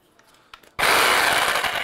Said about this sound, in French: je prends la batterie de la, hop, visseuse dévisseuse pour la mettre dans la scie sauteuse